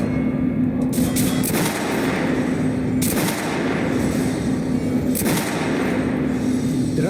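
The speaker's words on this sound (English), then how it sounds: "Head over to my range and try out those guns." Several loud gunshots ring out at a shooting range in Metro Last Light, with sharp blasts at roughly even intervals over a steady low rumble of background noise.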